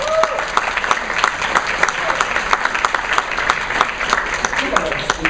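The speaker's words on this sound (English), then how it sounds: "Big round of applause." Audience applause greeting a presenter at a wealth creation marketing event, steady crisp clapping from a room of people throughout, with a few louder individual claps standing out.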